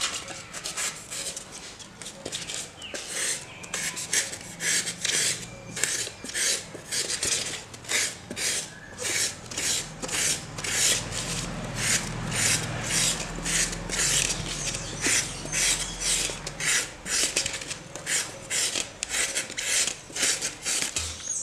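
Steady rhythmic rasping strokes from filing or sanding down a bulge on a hand-carved styrofoam (icopor) planter, close and continuous for about twenty seconds with no talking.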